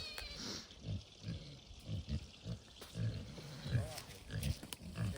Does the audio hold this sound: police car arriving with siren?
no